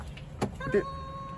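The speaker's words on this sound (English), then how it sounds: "Pull the door handle without it falling off." A short mechanical clunk and click of a car door latch being pulled, close by, followed by a faint hum.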